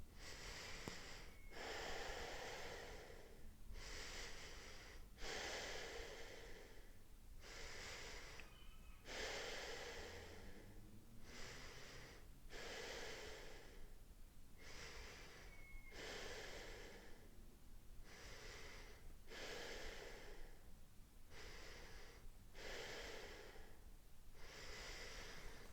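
Deep, slow yoga breaths in a quiet room, each inhale and exhale clearly audible and close. About a dozen even breath cycles repeat in a steady rhythm with no talking.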